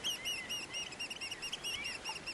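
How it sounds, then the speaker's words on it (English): Birds sing on a beach on the Isle of Arran on a calm morning, with quick repeated high chirps and trills running steadily throughout, soft and somewhat distant, with no voices. "The birds are singing."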